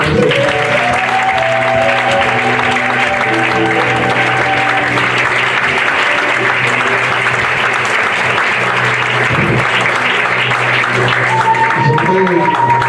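A church congregation claps loudly and continuously during a Sunday service, sustained applause filling the space, with some voices and tones rising beneath it.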